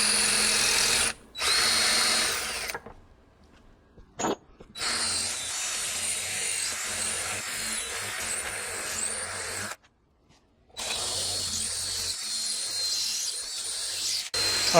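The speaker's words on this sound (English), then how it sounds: "I actually did not break a drill bit doing this." A power drill bores into a part of a Harbor Freight 1500 lb aluminum ATV and motorcycle lift jack, loud whining bursts starting and stopping several times with brief pauses between runs.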